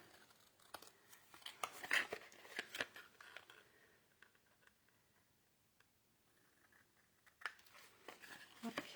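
Scissors snip through paper while cutting out the top of a Christmas treat box, a handful of close, crisp cuts and rustles separated by quiet pauses.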